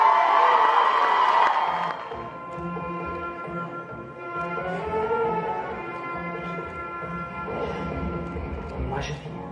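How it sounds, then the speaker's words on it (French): An audience at a group stage performance cheers and applauds loudly for about two seconds. Then the crowd noise drops away and music with a singing voice takes over. "On applaudit bien fort."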